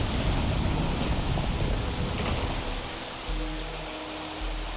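Waterfall in the game Wuthering Waves, a steady broad rushing roar of falling water, loud and continuous, easing slightly near the end, with no voices.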